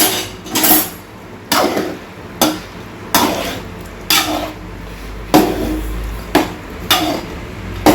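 A utensil stirring chicken curry knocks and scrapes against a pot in a steady rhythm, about ten clanking strokes, close and fairly loud with no talking.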